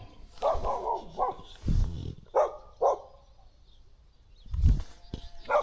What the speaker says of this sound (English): that dog does not like me